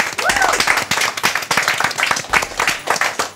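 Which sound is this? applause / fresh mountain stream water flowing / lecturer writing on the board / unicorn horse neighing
applause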